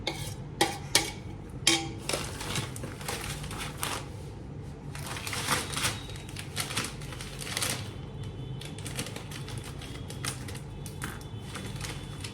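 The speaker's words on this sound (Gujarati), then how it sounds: "હવે આમાં નાખી દઈશું ખાંડ" Sugar being poured and stirred into a mango pickle mixture, heard as close, gritty scraping and rustling with a few sharp clinks early on, then a softer, steady mixing texture.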